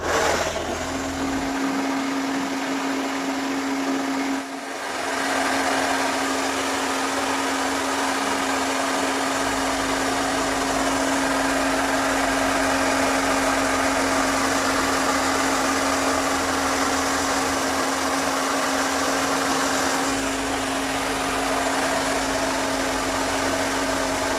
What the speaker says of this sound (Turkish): fön makinesine birazcık ısı vereceğim